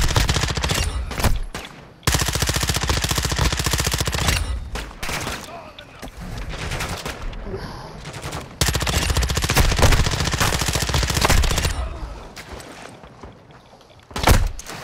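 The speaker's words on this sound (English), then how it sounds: "I'm getting shot in the back" Sustained bursts of automatic gunfire in a multiplayer online shooter, the player taking hits from behind, with loud rapid volleys that stop and start and brief pauses between them.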